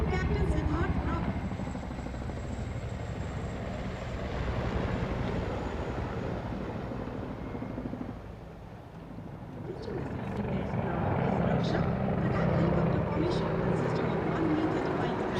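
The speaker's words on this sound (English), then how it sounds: "1 मी-35 और 4 Apache helicopters wig formation में उड़ान भरते हुए" One Mi-35 and four Apache military helicopters fly past in formation during India's 2021 Republic Day air display, a steady rotor roar that swells and fades slightly, heard under continuous commentary.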